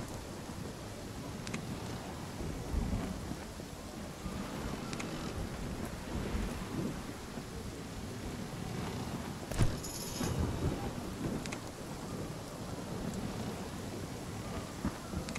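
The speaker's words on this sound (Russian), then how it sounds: "Когда же закончится этот шторм?" Steady rain and wind fill a thunderstorm in the video game Revelation, with low rumbles of thunder rolling underneath and a sharper crack near the middle, continuous and enveloping.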